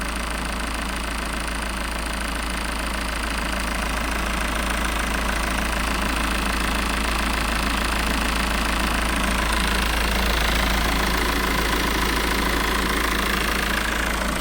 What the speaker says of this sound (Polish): posłuchajcie pracy silnika